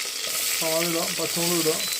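Mustard seeds splutter in hot oil with a steady hiss and light crackling, and brief tonal sounds rise over it.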